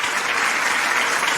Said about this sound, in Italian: facciamo un applauso per Loris Rapisarda